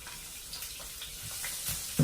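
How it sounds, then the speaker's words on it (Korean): Sliced onion stir-fries in about two spoons of oil in a well-heated frying pan, giving a soft, close, steady sizzle with light shifting hiss and a faint clatter at the end. "채 썰어 놓았던 양파를 먼저 볶아 보도록 하겠습니다."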